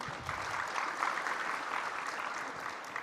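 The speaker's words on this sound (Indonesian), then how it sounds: "Jangan cepat tepuk tangan." An audience at an investor summit breaks into steady, dense applause during a speech, a continuous wash of clapping heard from across the hall with no talk over it.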